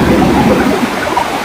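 Heavy rain pours steadily as a dense, continuous wash of noise with a low rumble underneath, loud and unbroken throughout with no pauses or distinct drops.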